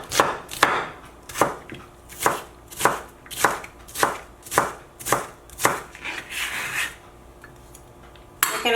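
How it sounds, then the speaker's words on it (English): A knife chops a quarter of an onion into small pieces on a board, about a dozen crisp, evenly spaced strokes close up, with no talking. "I'm going to start by cutting my quarter on onions in small little pieces."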